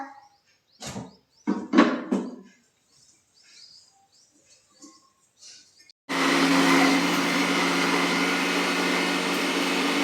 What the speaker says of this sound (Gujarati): હાલો તને મિક્સરમાં ક્રશ કરી નાખીએ આપણે.